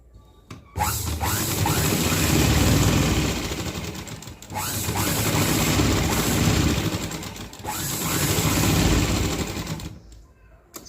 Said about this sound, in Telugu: నెక్ లైన్ వెంబటి మిషన్ కుట్టు వేసుకోవాలండి